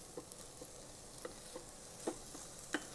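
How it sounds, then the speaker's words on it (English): Spinach going little by little into washed moong dal in an Instant Pot, with faint scattered stirring clicks and a soft hiss at low volume, no talk. "Let's add spinach little by little."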